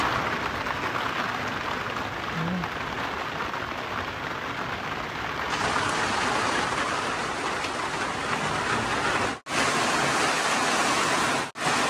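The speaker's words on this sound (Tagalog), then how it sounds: "Ang lakas ng hangin. Wala o. Ulan o." A steady roar of heavy rain with strong wind on a mountain rushes continuously, with a brief dropout near the end before the downpour resumes.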